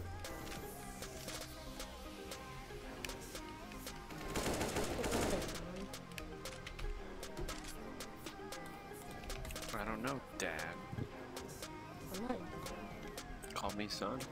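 Gunfire in Counter-Strike: Global Offensive, with sharp repeated shots and automatic bursts from a Nova shotgun and AK rifle, a dense volley in the middle, while a voice talks over much of the action.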